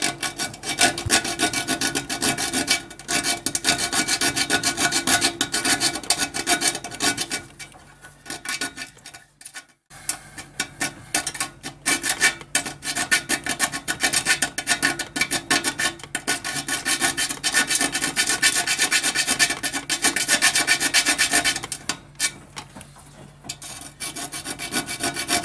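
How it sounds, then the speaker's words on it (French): A hand-held saw blade rasps back and forth against thin sheet metal, enlarging a hole in a De Dietrich floor-standing boiler. The harsh, close filing strokes run continuously, with a few short pauses. "La tôle est assez fine, donc c'est facile avec une lame de scie d'agrandir le trou."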